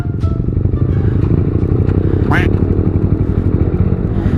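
A modified Yamaha R15 motorcycle is ridden with a loud, close, steady engine roar and rushing noise throughout.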